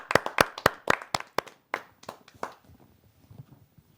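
An audience at a Hindi poetry and shayari gathering claps to welcome a speaker, a short burst of loud, uneven claps from a few hands that thins out and fades within a few seconds.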